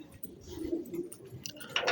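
Pigeons at a pigeon loft give soft, low cooing calls close by, with a few bird chirps and small rustles mixed in and no talk.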